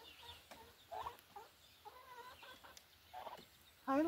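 Chickens, turkeys and ducks clucking and squawking outdoors, scattered soft clucks throughout that end in a sharper, louder call up close, with no talk.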